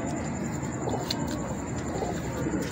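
A golden pigeon coos in soft repeated low notes over a steady background hum, close by in a pigeon loft in Shahdara, Lahore, with no speech.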